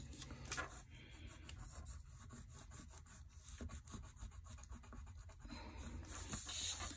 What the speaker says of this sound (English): Just gonna color around that, and then I'll switch.